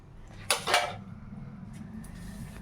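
An egg dosa is flipped on a pan with a couple of sharp metallic scrapes and clinks from the spatula, then only a low steady kitchen hum remains.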